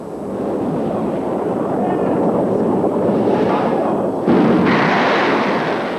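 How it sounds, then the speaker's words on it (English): A heavy, continuous rumbling roar, like Patriot missiles detonating against incoming Scud missiles, sustained and loud with a sharper burst of noise near the end. "The Patriots got as close as they could and detonated, filling the air with shrapnel"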